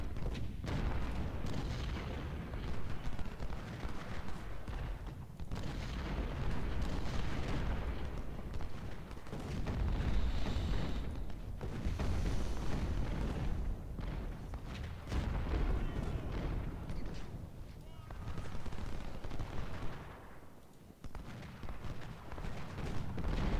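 Continuous rumbling cannon fire from a Civil War battle at Cedar Mountain in Ultimate General: Civil War, with booming artillery and musket volleys overlapping in a dense, loud, sustained barrage with no pauses.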